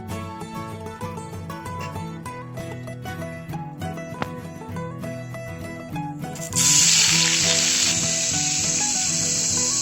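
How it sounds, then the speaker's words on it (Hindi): Paneer cubes fried in a spoonful of oil, with a loud, bright sizzle that bursts in about two-thirds of the way through and holds steady over ongoing background music, no voices. "अभी हम ये पनीर को थोड़ा सा फ्राई कर लेंगे।"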